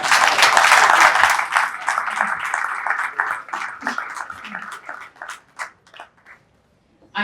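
An audience applauds after a keynote address at a strategic finance summit, dense clapping at first that thins into scattered claps and fades to near silence, with a voice speaking over it.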